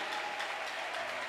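A church congregation applauds during a prophetic sermon, a dense, steady wash of clapping from many hands that fills the short moment without a break.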